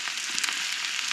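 Louisiana hot sausage frying in a pan gives a steady, close, bright sizzling hiss with small crackling pops throughout, and no voices.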